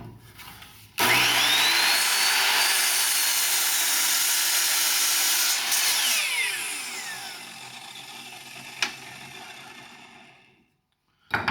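A miter saw cuts triangles from a wooden board, the motor spinning up with a loud whine, the blade biting through the wood for several seconds, then winding down and falling silent.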